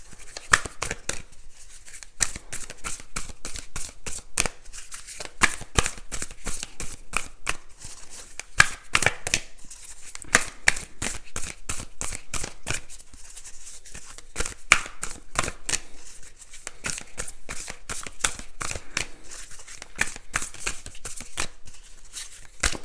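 Playing cards being shuffled over and over, a dense run of crisp, rapid flicks and riffles close by, continuing steadily for a long stretch with no one talking.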